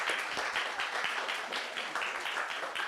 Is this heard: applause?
yes